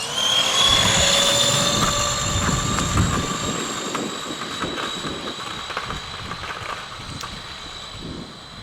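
A Razor electric scooter races past with a high, steady electric motor whine under wind rush, loud at first and slowly fading as it moves away.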